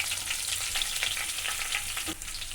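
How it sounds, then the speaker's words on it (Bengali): Black cumin seeds and green chillies sizzle steadily in hot mustard oil, a dense, continuous crackling hiss that stays close and even throughout with no voices. "কালো জিরে ফোড়ন দিয়ে দিলাম"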